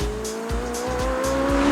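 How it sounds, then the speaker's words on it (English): McLaren 675LT track car on a circuit, engine climbing steadily in pitch under acceleration with rhythmic tire squeal pulsing across the short burst, loud and close. "Oh, the McLaren 675LT."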